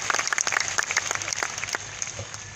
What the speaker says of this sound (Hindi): शायद तो आप ताली बजा रहे दोस्तों